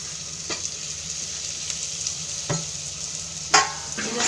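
Chili and turmeric powder roast in a hot pan with a quiet steady sizzle, punctuated by a few sharp scraping stirs of a spoon against the pan, close and without talk.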